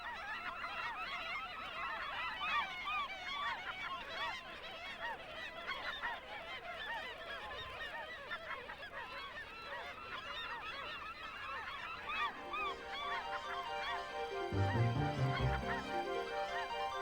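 A dense, continuous chorus of kittiwakes calling from a crowded breeding colony on the ledges and masts of an old ship, loud overlapping cries with a deeper honking burst near the end.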